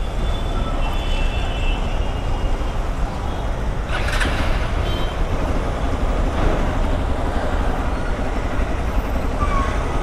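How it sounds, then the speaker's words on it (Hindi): A Hero XPulse 200 4V motorcycle engine running with a loud, continuous rumble close by, steady throughout with a brief surge partway through. "और गाड़ी हो चुकी है स्टार्ट"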